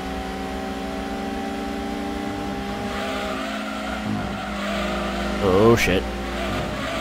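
Gran Turismo 2 race car at full throttle, its engine a steady, loud drone with layered harmonics, briefly rising with a squealing burst near the end while a voice exclaims over it.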